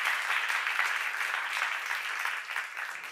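A church congregation claps together, a soft, fairly distant burst of applause that holds steady for a few seconds before tapering slightly.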